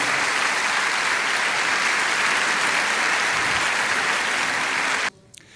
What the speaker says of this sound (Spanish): recibimos al Señor con un fuerte aplauso